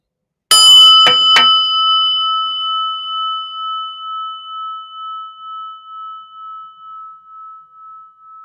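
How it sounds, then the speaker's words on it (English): A prayer bell is struck once, with a couple of quick rattling contacts, then rings out in a long, pure tone that slowly pulses and fades. "listen to the prayer bell"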